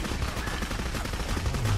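Rapid bursts of gunfire from the horror shooter game Clive Barker's Jericho, dense and continuous across the whole stretch, loud and close with no pauses.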